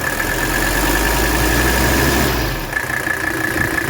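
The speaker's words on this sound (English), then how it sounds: "Look how smooth the engine is at idle." A 1984 Mercedes 300D diesel with 86,000 miles idles smoothly and steadily close by, a loud, even low rumble that holds constant throughout.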